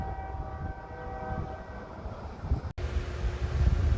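Flin Flon KRC train arriving at The Pas, a steady rumble with tonal hum from the passing rail cars, wind noise buffeting the microphone, building slightly louder toward the end.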